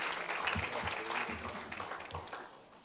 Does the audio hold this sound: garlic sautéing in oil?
no